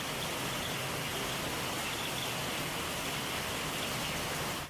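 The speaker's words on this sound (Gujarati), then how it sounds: "અમદાવાદના કેટલાક વિસ્તારોમાં વરસાદ વરસી રહ્યો છે।" Heavy rain pours down steadily in Gujarat as a dense, unbroken hiss, loud and even throughout and then cutting off abruptly, with no voices.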